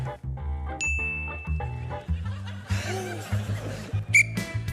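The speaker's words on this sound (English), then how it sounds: "Bell." A bell dings twice, bright and clear, amid laughter and chuckling from a studio audience on a comedy panel game show.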